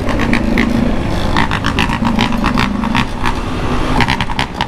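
A Porsche and other motor vehicles move through a favela, with a steady close engine rumble and a series of repeated sharp bursts of sound over it.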